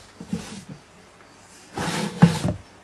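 A wooden sock drawer in a shoe cabinet slides with a soft scraping rattle, then a louder, longer slide ending in a knock, close by with no talking.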